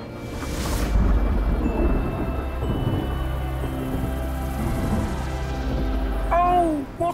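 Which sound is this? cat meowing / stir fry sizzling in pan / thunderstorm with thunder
thunderstorm with thunder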